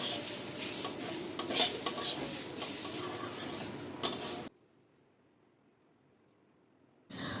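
Rice and lentils fry in a pan while a utensil stirs and scrapes them, giving a busy sizzle with clinks for about four seconds. Then comes a sudden near-silence before the frying noise returns at the end.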